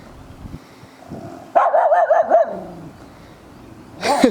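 A dog hidden from view barks at someone passing in public, giving a loud burst of yelping barks up close, a pause, then another short bark.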